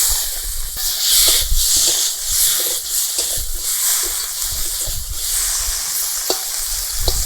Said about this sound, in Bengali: এবারে চিংড়ি মাছগুলোও ভেজে নেব।